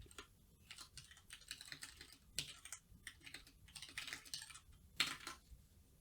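Rapid keystrokes on a computer keyboard while a short social media post is typed, clicking in irregular bursts with brief pauses, close and fairly quiet, no voices.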